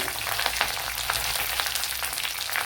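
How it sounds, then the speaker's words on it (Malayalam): Mustard seeds splutter in hot oil with dried red chillies for Bengali-style egg podi mas, a close, continuous crackling sizzle dotted with tiny pops, steady throughout and without voices. "കടുകൊക്കെ പൊട്ടിയിട്ടുണ്ട്. അതിലേക്ക് 3 വറ്റൽമുളക് ഇട്ട് കൊടുക്കുക."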